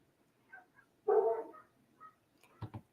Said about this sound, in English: Man, you can hear my dogs in this thing.